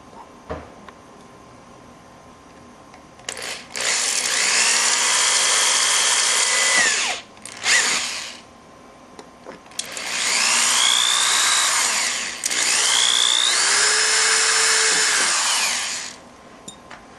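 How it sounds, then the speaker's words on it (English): A power drill whirs through a Systema PTW airsoft rifle charging handle in two long bursts, pitch shifting as it bites, with brief pauses and a short burst between them. "drill your second hole"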